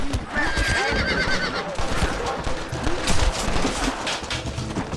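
Horses whinny and neigh repeatedly in the Red Dead Redemption video game, with hoof clip-clops and bursts of distant gunfire mixed in. The sound is close and fairly loud.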